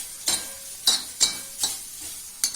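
Okra sizzles in oil on a flat iron tawa, with five or so crisp stirring scrapes in a loose rhythm over a soft steady hiss, close and moderately quiet.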